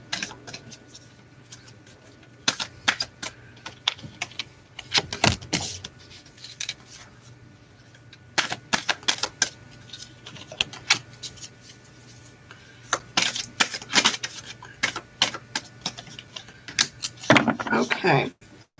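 Alice-themed tarot cards are shuffled by hand, the sticky deck making bursts of crisp riffling and slapping that repeat several times at close range, with quiet pauses between them.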